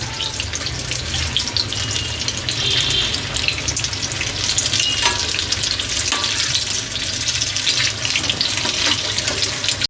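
Masala mirchi bajji, battered chilli fritters, deep frying in hot oil, giving a steady, close bubbling sizzle that runs unbroken throughout with a few light stirring clinks and no talk.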